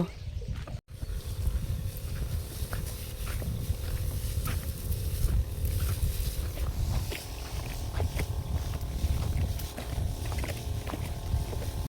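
A steady low drone from a water pump engine runs throughout, chugging continuously at close range with faint splashing and clatter on top.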